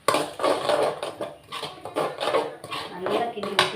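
Onions are stirred in a metal cooking pan while a Tamil home lunch is being prepared, with repeated scraping and clinking of a spoon against the pan in a steady back-and-forth rhythm, heard up close with a voice speaking over it.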